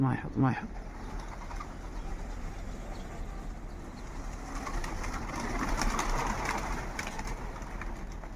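Pigeons coo intermittently outdoors, mid-distance, over steady low traffic rumble, with a louder burst near the start and people talking in the background.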